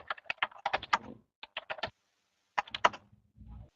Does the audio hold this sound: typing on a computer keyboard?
yes